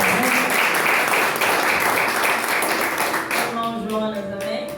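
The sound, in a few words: congregation applause in church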